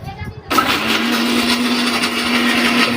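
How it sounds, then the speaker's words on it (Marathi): An electric mixer grinder whirs into action after a brief pause, grinding roasted coconut for karale chutney with a loud, steady motor hum and rattle that holds constant to the end. "आता बघ मिक्सर लावलं इथे"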